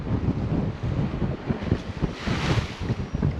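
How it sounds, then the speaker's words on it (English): Breezy coastal wind while sea fishing on the Scottish coast, steady buffeting gusts rumbling against the microphone with a rushing swell midway, loud and close, no voices. "It was quite breezy the day."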